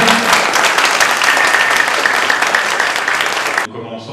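Studio audience applause on a French spelling-contest TV show, honouring a woman's 62nd birthday: dense, loud clapping sustained for about three and a half seconds, then cut off as a voice starts speaking.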